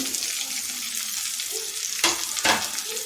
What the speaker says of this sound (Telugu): ముందుగా ఫ్రై చేసుకున్న బంగాళదుంప బెండకాయ వచ్చేసి ఇందులో వేసేసుకోవాలి